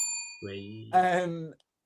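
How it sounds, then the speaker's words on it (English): A bell rings out at a live show with a crowd, struck a few times in quick succession, each strike leaving a bright, sustained metallic tone that fades. "Cam, I'm ready to use the bell"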